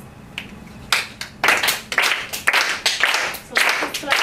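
Loud flamenco claras hand clapping at an evening flamenco performance in a library, sharp crisp claps landing in a steady rhythm of roughly two per second, with a few scattered claps at the start building into the regular beat.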